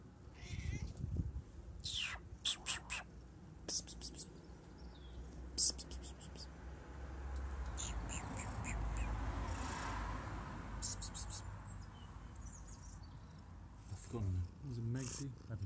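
Megzy, a playful cat, gives several short meows at close range, mixed with whispered human voices and rustling handling noise, with a quieter stretch in the middle.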